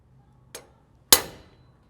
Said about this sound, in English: I'm going to center punch